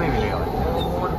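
Doha Metro train running through a tunnel, heard as a steady, loud low rumble and rolling hum throughout, with no clear pauses.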